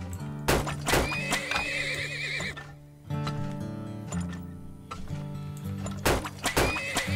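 Horses neigh and whinny repeatedly in the Turmoil video game, shrill cries over game music and clip-clop hoofbeats, with someone speaking throughout.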